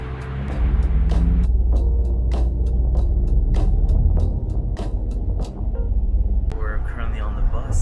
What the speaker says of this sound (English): We're currently on the bus and it's about a 5-hour trip